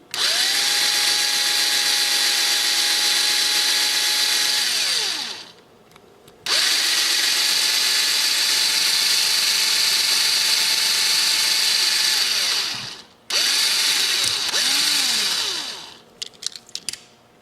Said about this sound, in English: we're going to go ahead and drill out the pilot hole for the screw